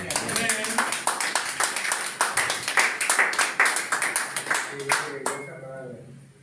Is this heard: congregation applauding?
yes